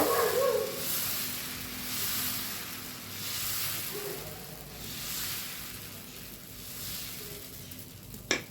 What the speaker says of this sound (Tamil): கல் ஏற்கனவே சூடாக இருக்குது அப்படியே தோசை ஊற்றிக்கிறேங்க